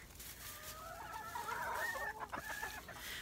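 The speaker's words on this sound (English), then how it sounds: "I have my little rooster friend." A seven-month-old young rooster clucks by a chicken coop on a cold day, a run of close, moderately loud clucks and short crowing-like calls over faint wind noise, with no talking.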